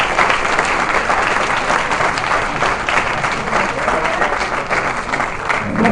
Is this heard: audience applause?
yes